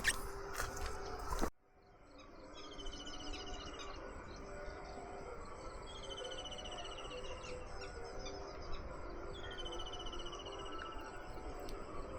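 Crickets chirp in steady repeated trills by a river at night, faint but continuous over a low ambient background after a brief louder burst at the start.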